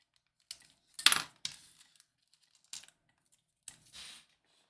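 Small metal nuts and screws clatter and rattle in a few separate bursts, close and crisp, with quiet pauses between the handling sounds.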